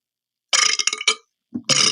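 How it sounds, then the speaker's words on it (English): Loud, close burps from people holding a burp contest: a long, rasping belch lasting most of a second, a short pause, then a low grunt leading into another drawn-out belch. "Sorry, my buddies are having a burp contest back here."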